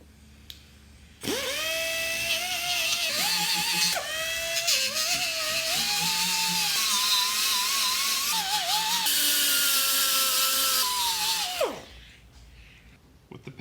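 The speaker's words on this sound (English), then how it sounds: "These pads need to be cleaned with emery cloth or an abrasive wheel." A power tool with an abrasive wheel spins up and grinds against the pads of a drum brake backing plate, a loud sustained high whine with shifting pitch for about ten seconds before winding down.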